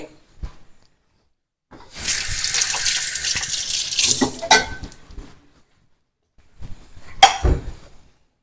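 Drinking water gushes in a steady pour for about two seconds, then a brief splash and a sharp clink of a vessel follow in a quiet room.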